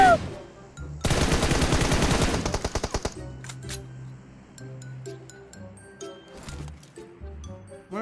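Enemy gunfire in PUBG, a loud dense burst of rapid automatic shots lasting about two seconds and trailing into a few spaced final rounds, followed by softer game sounds and scattered clinks.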